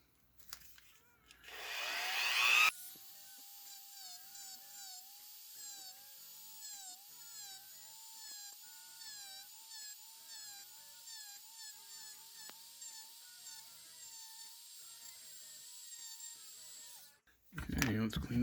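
A rotary tool trims the shoulder piece of a plastic Hulk action figure, giving a steady, high, close whine that runs unbroken for about fifteen seconds, with brief louder handling noise just before and after.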